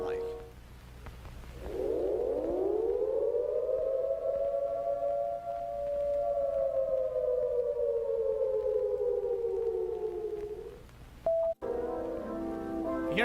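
A civil defense attack warning siren gives one long, loud, wavering tone that rises at the start, holds steady and slowly falls away. Near the end a short beep and some brief noise follow.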